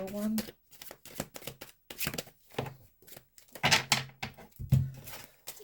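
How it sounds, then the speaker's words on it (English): Tarot cards are shuffled by hand in quick, crisp riffling bursts, close and fairly loud, with brief pauses between and a voice speaking over part of it. "Okay, last shuffle."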